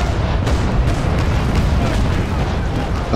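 Frigate cannons firing a broadside in a naval sailing-ship video game, the HMS Pandora frigate, heard as a dense continuous rumble of booming shots with no pauses, loud throughout.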